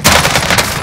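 Dense, loud automatic gunfire rattles continuously in a video game firefight, a sustained burst of rapid shots filling the whole moment with no talking.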